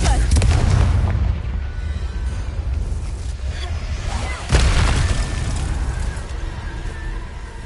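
Confringo spell explosions in Hogwarts Legacy, a loud booming blast at the start followed by rumbling decay, then a second sharp, heavy burst partway through, with a voice briefly in the mix.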